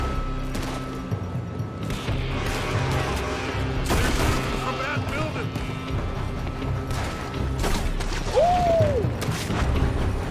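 Gunfire from the video game Red Dead Redemption 2, a fusillade of shots with booms and mechanical clatter running throughout, mixed with game noise while people talk over it.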